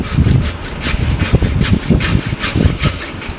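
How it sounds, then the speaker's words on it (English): A hand saw cuts a wooden workpiece for a cross lap joint in a carpentry lab, giving rhythmic rasping back-and-forth strokes, about two per second, close and clear without talk. "With the aid of saw, he can produce the perpendicular"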